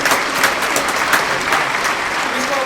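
A live studio audience breaks into steady, full applause, a dense crowd of clapping hands that holds at an even level from start to finish.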